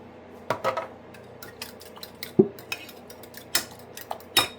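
Eggs being scrambled in a bowl for gluten-free pancakes, with irregular clinks and taps of a utensil against the bowl, close and fairly crisp, with no talking.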